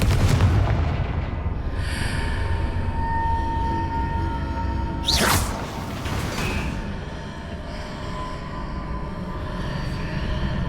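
A Confringo fire-blasting spell explodes in Hogwarts Legacy, one sharp booming burst midway through a continuous rumbling game backdrop.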